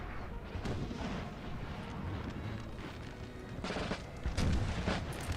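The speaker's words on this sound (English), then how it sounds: "Okay, let's get rid of those cannons." Cannon artillery fire in the Napoleon Total War video game, a rumbling barrage of heavy booms that swells near the end into a louder, closer volley.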